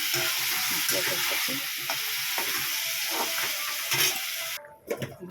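Meat seasoned with turmeric, cumin and salt is stir-fried in a pan, sizzling steadily under scraping and stirring strokes, before the frying fades into quieter clatter near the end.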